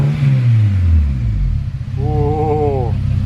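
A turbocharged Honda Civic Si engine, part of a Mugen build, rumbles and revs briefly up close, with a low throaty note that rises and wavers toward the end.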